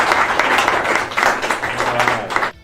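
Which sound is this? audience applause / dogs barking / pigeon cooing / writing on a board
audience applause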